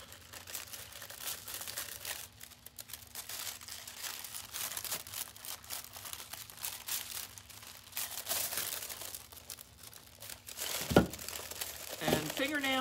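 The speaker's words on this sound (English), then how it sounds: "this is a non-directional foil, so it doesn't matter which way I place the cup on it" Non-directional foil crinkles and crumples continuously as it is wrapped around a cup, close and rustling, with a voice talking over the sound and a few louder crunches near the end.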